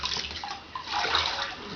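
Bathwater sloshes and splashes in a tub as a baby is bathed, a close, fairly loud churning of water that swells and eases over a couple of seconds.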